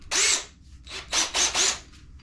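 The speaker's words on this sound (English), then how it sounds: "we're gonna drill a hole down here in the bottom of this target" Power drill fitted with a paddle bit boring a hole into the bottom of a foam 3D archery target, several loud, close whining bursts with short pauses between them.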